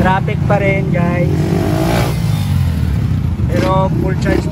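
Road traffic surrounds a rider on a KUDA Wolf electric bike, with a continuous rumble of passing motorcycles and cars and some engine revving, while people talk over the noise.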